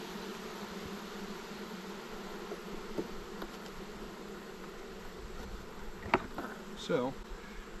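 Disturbed honey bee hive buzzing steadily with a low, agitated drone, with a few louder individual bees passing close by near the end.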